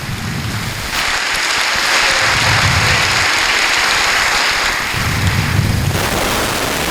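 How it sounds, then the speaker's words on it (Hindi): A church congregation breaks into a sustained, loud wash of clapping that swells after a moment, holds steadily for several seconds and then tapers off, with no one speaking. "उस मुबारक शख्स के लिए जोरदार तालियां बजाइएगा।"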